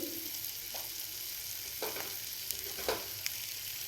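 Grated coconut, garlic cloves and shallots fry in oil for a horse gram chutney, making a quiet, continuous sizzle broken by a few soft stirring clicks.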